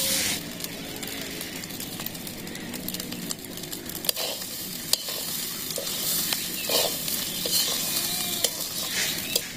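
Rice frying in oil in a pan is stirred continuously, a steady bright sizzle broken by scraping and clinking of the spoon, close and fairly loud with no talk.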